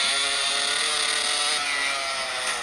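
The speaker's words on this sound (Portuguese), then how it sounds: "essa moto faz tanto barulho que meu ouvido dói" A loud motorcycle engine in the GTA video game, a harsh, buzzing high-revving drone that holds steady and continuous throughout with no talk over it.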